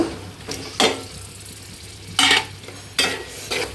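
Chopped tomato and green chili cook with spices and a small potato in a pan, with four separate scraping stir strokes cutting through a soft, steady sizzle, close and fairly quiet.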